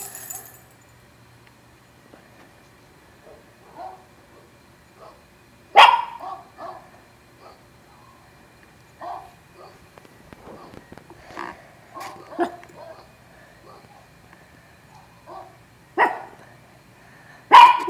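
Recorded dogs barking play back in a quiet room, scattered sharp barks and yaps spaced out over time, a couple of loud close bursts among fainter ones.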